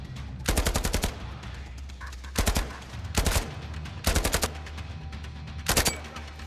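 Bursts of rapid automatic gunfire from the VR shooter game Zero Caliber, several loud rattling volleys separated by short pauses, with no talking.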